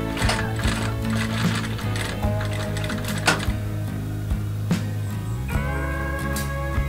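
A sewing machine stitching a rolled hem on fabric makes a rapid, steady mechanical clatter close by. It continues throughout and shifts in tone near the end.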